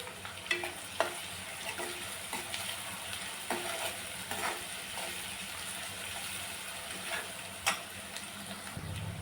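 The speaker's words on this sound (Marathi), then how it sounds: "कांदा छान आपल्याला गुलाबी रंगावर परतून घ्यायचा आहे।" Chopped onion with curry leaves sautéing in a pan for a wedding-style brinjal and potato curry, a steady low sizzle with occasional scraping taps of a spoon, fairly faint and without talk.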